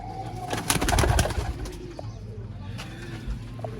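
A pair of Sialkoti Hino breeder pigeons coos close by in soft, repeated throaty phrases, with a brief burst of fluttering or handling noise early on.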